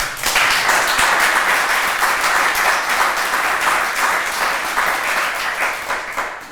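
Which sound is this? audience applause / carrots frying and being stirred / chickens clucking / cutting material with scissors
audience applause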